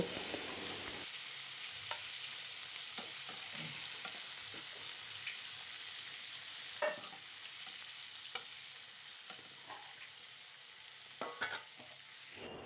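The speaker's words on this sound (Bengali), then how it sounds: "যেহেতু চিংড়ি মাছ তাই বেশি লাল করে ভাজাভাজি করব না, হালকা একটু নেড়ে চেড়ে নিয়ে চিংড়ি মাছটাকে তুলে নেব।" Prawns lightly fried and stirred in hot oil in a wok, with a steady close sizzle broken by occasional sharp scrapes and clicks of the stirring utensil, no voices.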